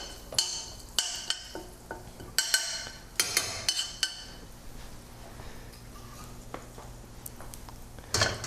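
Mustard seeds popping in oil as it heats, coming as scattered sharp crackles and pops in small bursts, close and fairly quiet.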